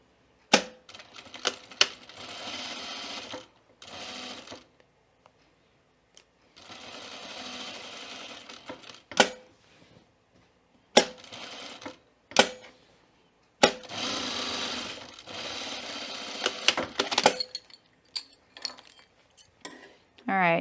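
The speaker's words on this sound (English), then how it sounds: "Now we're going to stitch around this box here." Sewing machine stitching a box on a shirt placket, running in several short bursts of rapid mechanical chatter with sharp clicks and pauses between them, close by with no talking.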